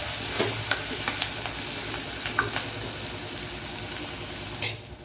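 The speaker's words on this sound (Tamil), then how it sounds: "ஆனியன் நல்லா வதங்கி வரணுங்க நமக்கு பாருங்க ஆனியன் நல்லா வதங்கிட்டுருக்கு" Onion sautéing in a clay pot, a loud, close, continuous sizzle with occasional stirring scrapes, fading out abruptly at the end.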